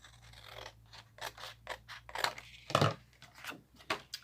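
Scissors snipping through paper folded accordion-style for a Christmas loaded envelope, a series of close, crisp cuts and slicing scrapes at an uneven pace, quiet and without voices.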